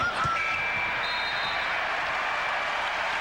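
An NBA arena crowd at a Boston Celtics versus Chicago Bulls game applauds and cheers at the end of the first half, a steady, broad roar with a few whistles over it.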